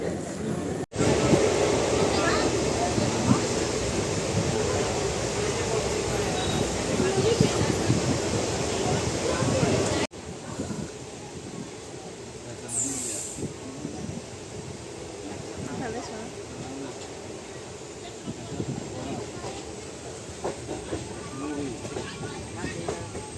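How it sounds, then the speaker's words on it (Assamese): A train pulls into a station in Tinsukia with a continuous rumbling roar and rattle, louder at first and then easing to a lower, steady hum, with faint background activity around the platform. "এইফালে আমাৰ ট্ৰেইন আহিছে"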